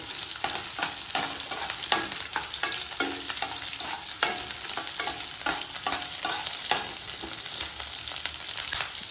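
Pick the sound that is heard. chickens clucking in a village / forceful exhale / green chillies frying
green chillies frying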